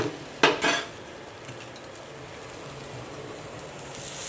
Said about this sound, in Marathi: त्याच्यासाठी हा पहिल्यांदा कांदा भाजतो बरोबर